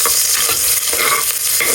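Chopped onions land in a hot pan for a cheap misua soup and are stirred, giving a steady, loud, close sizzle with scraping stir sounds throughout and no talking.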